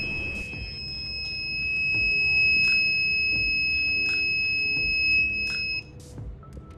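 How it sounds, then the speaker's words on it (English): A small buzzer on a Raspberry Pi ultrasonic distance sensor setup gives a sustained high electronic tone under faint background noise, holding steady for several seconds before cutting off near the end. "the pitch of the buzzer will increase"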